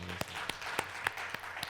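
Applause from a congregation at a Korean church's first-anniversary Sunday service, several sharp claps spaced out over a soft background, faint and brief.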